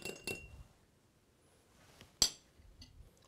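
A spoon stirs percolator coffee topped with cinnamon in a cup, making a couple of faint clinks, then one sharper ring against the cup after a quiet pause. No one speaks.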